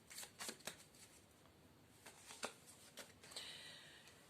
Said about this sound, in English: I'm going to shuffle the cards that I drew for you